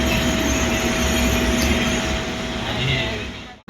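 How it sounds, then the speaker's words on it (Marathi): A train pulls out from a station near Ratnagiri with a loud, steady rumble of wheels and carriages, a faint high whine running through it, before the sound cuts off abruptly at the end. "आता आमची ट्रेन सुटलेली आहे"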